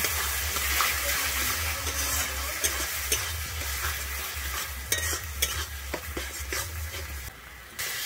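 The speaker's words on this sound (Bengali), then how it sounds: "আমি দইটা দিয়ে কিন্তু খুব ভালোভাবে এখানে নেড়ে নেব।" Whisked yogurt being stirred into a frying spice mix for a Bengali pointed gourd and prawn curry, with steady scraping and stirring over a constant loud sizzle, close up and without talk.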